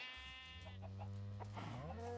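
A single drawn-out sheep bleat from a video game, clear and close, wavering in pitch before trailing off.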